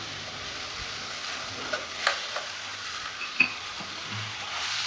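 Green chicken sizzles steadily in a pan while being stirred and mixed, with a few soft scrapes and knocks of the utensil standing out over the continuous frying hiss; no one speaks.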